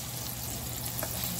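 Egg-marinated sole fish frying in a pan, an even close hiss of hot oil sizzling steadily throughout with no talking.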